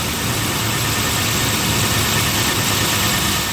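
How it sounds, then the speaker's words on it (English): A Toyota 4Runner's 2UZ-FE V8 engine idles up close, holding a smooth, even, unbroken hum with no other sounds. "Beautiful idle on this 2U ZFE."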